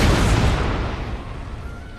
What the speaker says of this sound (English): Let us observe their artillery.